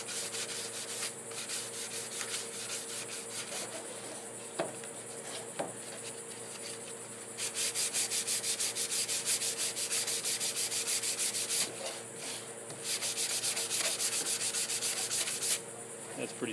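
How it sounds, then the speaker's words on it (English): Light scuff sanding of a wood surface being prepped for a traditional amber finish: a continuous close, soft hiss of abrasive rubbing in long strokes, steady with brief pauses, and no talking. "You're just kind of really just scuffing it."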